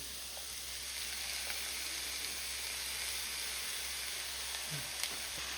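Soft, steady sizzle of crushed small shallots frying in oil in a pan for Kerala-style duck mappas, a faint continuous hiss with a few light crackles.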